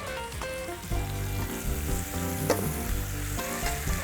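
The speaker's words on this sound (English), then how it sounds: "we're gonna sear these steaks in the pan" Steaks searing in a hot cast iron pan give a steady, close sizzle with occasional louder pops and spatters, running alone without voices and under a faint background tone.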